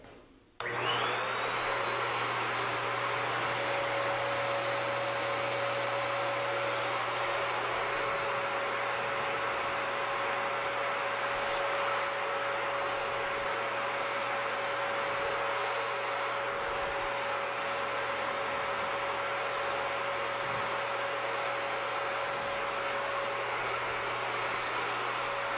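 An Erlex paint spray gun sprays continuously while its fluid nozzle is screwed in, giving a loud, steady rushing hiss of air with a constant whine and low hum, close and unbroken, with no talk.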